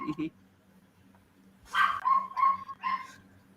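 Dog barks in short bursts: one quick pair near the start, then a louder run of several barks with whimpering tones later, close by, over a steady low background hum.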